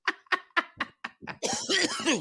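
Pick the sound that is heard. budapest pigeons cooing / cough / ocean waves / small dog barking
cough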